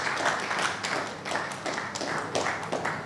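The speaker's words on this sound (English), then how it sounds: "You can do better by clapping for him" An audience claps at a law week event, a dense, even patter of hands that swells and eases slightly over a few seconds, with no voices over it.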